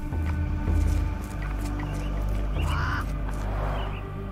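Caged myna birds in a video game giving harsh, raspy calls in short bursts over a low droning background, with a couple of louder squawks toward the end.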